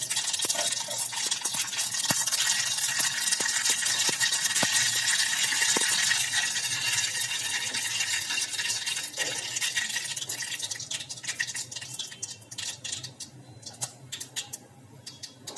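Spices tempering in hot oil for a crispy dal-rice handvo, with asafoetida, dried red chilli, curry leaves and sesame seeds going in; steady broadband sizzle that is loudest early, then eases into crackling with scattered sharp pops near the end.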